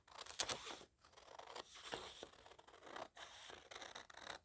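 Scissors cut through a paper test print to trim off its white edge, giving a close, quiet run of crisp snipping and scratchy slicing strokes with brief pauses between cuts.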